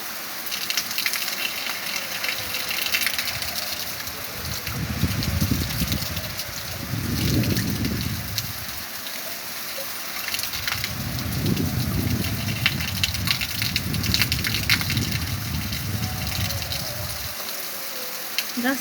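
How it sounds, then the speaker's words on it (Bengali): Heavy rain pours down in a dark early morning, a constant broadband hiss throughout with deeper rushing surges that swell and fade, and no voices over it. "বৃষ্টি হয়ে যাচ্ছে, বৃষ্টি হয়ে যাচ্ছে"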